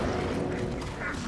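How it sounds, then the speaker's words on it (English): A weapon being reloaded in the video game Alan Wake 2: a short run of mechanical clicks and ratcheting handling noise under a dense wash of background game sound. "Let me reload."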